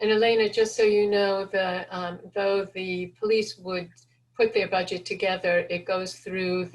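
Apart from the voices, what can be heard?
No distinct noise like a dog, phone or traffic.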